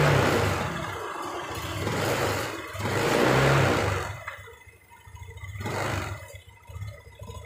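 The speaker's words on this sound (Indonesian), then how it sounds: "Ini di gas awalnya berebut seperti ini." A Honda BeAT LED Deluxe scooter engine, with a fault that throws code 7 and makes it stall, revs up and down unevenly in loud, stumbling surges when the throttle is opened, heard close with no talk.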